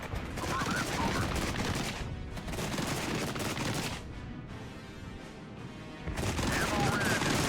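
Heavy, sustained gunfire from the wargame Regiments, with dense volleys and rapid bursts rolling on with brief lulls, loud and close throughout.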